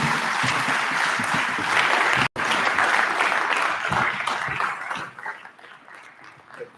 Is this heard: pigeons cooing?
no